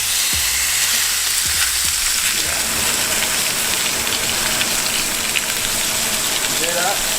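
Steak sizzling and frying in a hot pan in a college dorm kitchen, a steady close hiss throughout with a few low thumps from handling near the start and brief voices in the background.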